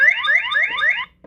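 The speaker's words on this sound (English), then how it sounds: "it sets off an alarm to scare off squirrels or whatever you want" Electronic deterrent alarm from a Bilantan BirdHi Ultra bird feeder camera, meant to scare off squirrels: a rapid warbling siren of rising sweeps, loud and close, cutting off abruptly after about a second.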